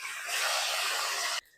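Pieces of katla fish sizzle in hot oil in a heated kadai just after being turned over, a loud, steady hiss that holds for about a second before cutting off abruptly.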